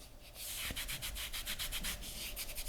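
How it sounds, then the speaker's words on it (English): Rapid back-and-forth rubbing of kinesiology tape onto a wrist, a close, soft rhythmic swishing friction of about a dozen quick strokes, with no talking. "you want to rub that tape in"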